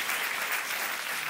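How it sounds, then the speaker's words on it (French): A live audience at a French-language sermon applauds steadily, a dense, even wash of many hands clapping that holds at the same loudness throughout, with no voices over it. "Si vous voulez applaudir, applaudissez pour de vrai, s'il vous plaît."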